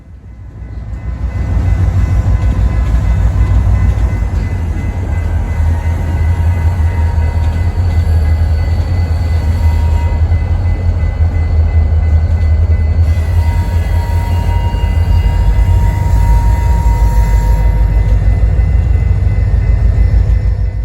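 A BNSF freight train led by an SD40-2 diesel locomotive passes close by on the Marshall subdivision in Willmar, Minnesota, a loud, sustained low rumble of engine and rolling cars with steady wheel clatter throughout.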